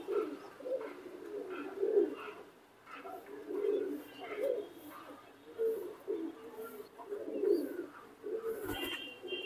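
Pigeons cooing in a loft of red-eyed fancy breeds, a series of soft, low, rounded coos repeating irregularly and fairly close, with faint chirps and background rustle between them.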